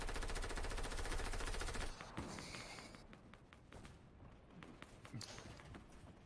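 Fortnite gunfire: a dense, sustained machine-gun stream for about two seconds, then scattered single shots and thuds that grow sparser and fainter, with no talk.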